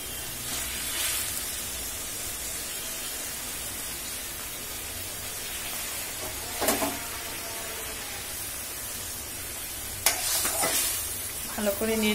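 Fried katla fish is stirred into a simmering curry, a soft, steady sizzle broken by a few short scraping stirs of the spoon in the pan, with no talking.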